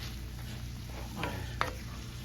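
Nacho filling sizzles steadily in a pan under a constant hiss, while a spoon stirs it with a couple of brief scraping clicks near the middle; nobody speaks.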